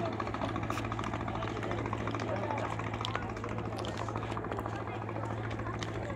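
A boat's engine drones steadily as the boat comes in to a riverside ghat, a continuous low throbbing hum with a rapid mechanical chatter that stays loud and close the whole time.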